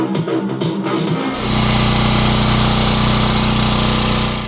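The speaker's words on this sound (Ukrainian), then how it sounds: "по відео ви могли чути, коли генератор працює в максимальному своєму навантаженні, він буде гучніший, ніж будь-який телевізор" A Champion 3.6 kW dual-fuel gas/petrol inverter generator runs at full load. It roars loud and close with a dense, steady buzzing drone that swells to a constant high level after a short, uneven build-up.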